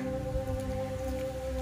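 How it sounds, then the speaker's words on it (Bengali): Steady rain patters softly at an old temple, a faint, even wash of falling drops with no voices. "বৃষ্টিটা এসে গেছে, আমাদের ফোনটা ওয়াটার প্রুফ না"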